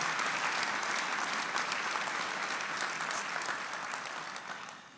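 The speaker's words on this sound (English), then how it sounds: "So let's give you another big round of applause." Audience at a winter commencement ceremony breaks into loud, sustained applause, a dense crowd of clapping hands that holds steady for several seconds before gradually fading out.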